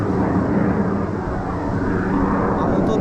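A military jet like an F-16 passes high overhead during wild blueberry picking in a Swedish forest, a broad, steady distant roar filling the whole moment with no clear rise or fade.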